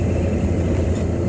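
A work van's engine drones in a low, steady rumble from inside the cab. It stays loud and even throughout, with no distinct gear change standing out.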